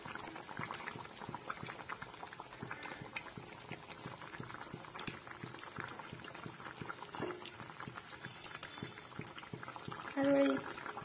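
Elephant apple fish curry with mustard bubbles in a pot, a continuous close burbling boil with dense popping, steady throughout, and a brief tonal sound near the end.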